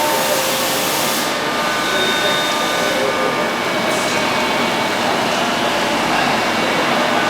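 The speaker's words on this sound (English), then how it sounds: "are alternator covers that are currently being cut" CNC machine cutting motorcycle engine alternator covers in the TM Racing factory, a loud constant whirring and hissing drone with faint high whines, steady throughout.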